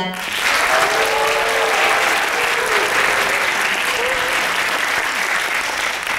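Loud, steady applause from a university audience at the opening of a campus lecture forum, continuous dense clapping with a few brief cheers mixed in.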